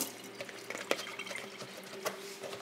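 Tap water runs steadily while something is rinsed beneath it, giving a close, continuous splashing with small irregular clinks and surges over a faint hum, with no talking.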